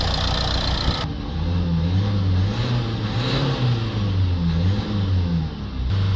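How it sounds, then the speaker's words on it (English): A Nissan X-Trail engine with a blocked diesel particulate filter runs steadily, its low hum rising and falling as it is revved several times, close and fairly loud. "we'll give the engine a few revs just to clear out any soot that's left over in there"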